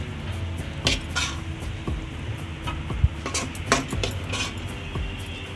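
A metal spoon scoops kheer made with jackfruit seeds out of a cooking pot, giving scattered close clinks and scrapes against the pot with a few sharper knocks, and no talking.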